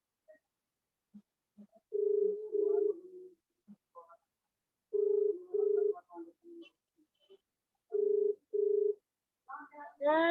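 A repeating phone ringback tone sounds during an online geometry class, beeping in short paired pulses with silent gaps between them, fairly clear, with brief voices and other sounds near the end.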